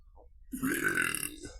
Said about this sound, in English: Apologies for the burp, that's disgusting.